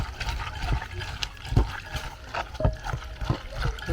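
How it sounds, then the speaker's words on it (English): Water runs and splashes as a cut fish head is washed with water and salt. The trickling is intermittent, with sharper sloshes and knocks close by and no talk. "I want to wash it with small salt."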